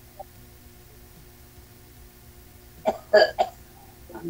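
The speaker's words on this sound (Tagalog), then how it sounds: "May umuubo, sir. Malala na yata yung ubo niyan." After a quiet stretch with a low hum, a person with a bad cough gives a few quick, harsh coughs in a short burst, fairly close, during a live radio broadcast.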